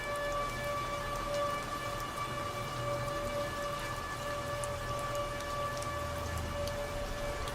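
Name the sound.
rain falling outside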